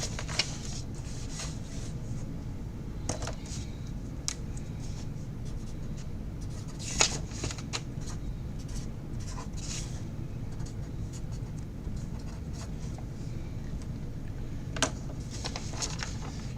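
A pen scratches out a running tally on a small yellow sheet of paper, with faint intermittent scribbling strokes and a few soft paper rustles in a quiet room.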